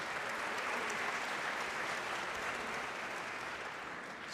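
Applause from a live debate audience on intelligent design and evolution, a dense, steady clapping that fills the whole stretch at close range and slowly fades, with no voices over it.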